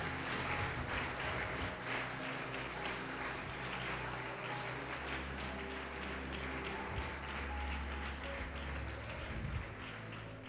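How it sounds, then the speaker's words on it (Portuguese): A church congregation applauding during a sermon, a continuous wash of clapping throughout over a steady low hum and faint sustained tones from the room's sound system. "Pode aplaudir o Senhor Jesus e glorificar"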